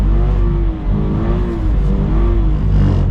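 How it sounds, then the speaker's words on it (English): A 2022 Subaru BRZ's engine revving hard in first gear as the throttle is kicked to hold a drift around cones, a loud, close, sustained roar that rises and dips. "we're going to kick the throttle"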